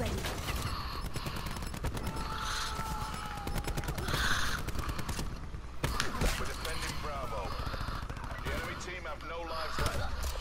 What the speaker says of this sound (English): Ah, he's sniping me.